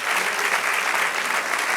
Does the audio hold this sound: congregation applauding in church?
yes